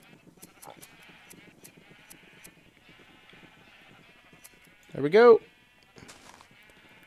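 Sheep in Minecraft give one short, loud video-game bleat partway through, set against quiet farm machinery ticks and clicks; someone talks briefly nearby.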